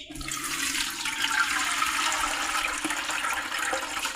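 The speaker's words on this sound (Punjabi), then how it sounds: "ਬਾਲਟੀ 'ਚ ਆਪਾਂ ਸਾਰਾ ਪਾਣੀ ਹੈ ਜਿਹੜਾ ਇਹ 'ਚ ਕੱਢ ਦਾਂਗੇ" Water pours out steadily into a bucket as cauliflower is drained, a close, continuous rushing gush lasting a few seconds with no talk.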